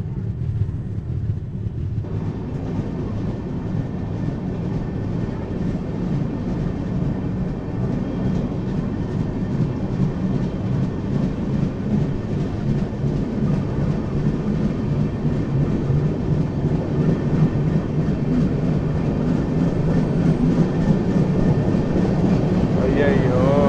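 Intercity Express train running nonstop, a continuous loud rumble with rhythmic clickety-clack of wheels over rail joints, a voice talking faintly over it.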